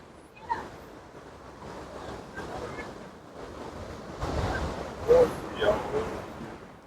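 Water from a huge waterfall pours down on the Canada side, heard from a tunnel opening far below as a steady roaring wash with wind buffeting the microphone and a few brief swells.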